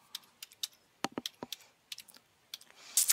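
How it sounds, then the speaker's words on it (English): Typing on a computer keyboard: a run of separate, fairly close key clicks at an irregular pace, some brief pauses between them, and a louder burst of clatter at the very end. "to begin my search, I'm going to type in Starbucks for the company name"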